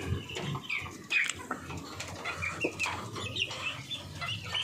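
Chickens of mixed breeds clucking in a coop, a dense chorus of close, overlapping clucks and short squawks with occasional wing flaps, no talk.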